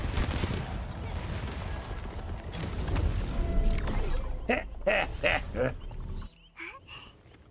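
Automated turrets fire in the Arknights Endfield video game, a busy mechanical barrage of rapid shots that thins out into a few separate clanking bursts before fading.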